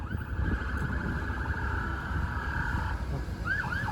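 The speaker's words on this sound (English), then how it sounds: "I hear a siren though." A distant police siren wails faintly over steady traffic rumble on Yonge Street in midtown Toronto, rising into a brief yelping pattern near the end.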